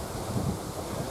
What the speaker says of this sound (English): quite a strong wind at time as well